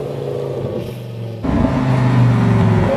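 A supercar downshifts as it pulls up beside a car dealership, its loud, close engine note jumping sharply upward partway through and then holding a strong, rising rev with no talking.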